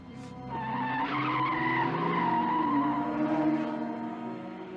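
Car tires skidding and squealing in the 1986 film The Wraith, a sustained screech with wavering tones running nearly five seconds at steady loudness, heard alone without speech.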